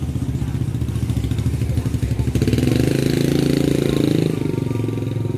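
A motorcycle passes along a street, its engine drone swelling louder in the middle and then easing off, with faint voices in the background.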